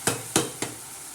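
A spoon taps and scrapes three times in quick succession against a pan of methi and moong dal bhaji, with a faint sizzle underneath and no talk.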